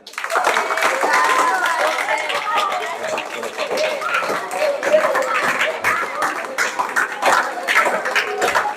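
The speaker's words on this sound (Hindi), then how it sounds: "और जोरदार तालियां।" Clapping from a crowd at a Guru Purnima celebration at a coaching and computer centre, uneven and crackling with sharp individual claps, mixed with voices talking and chattering throughout.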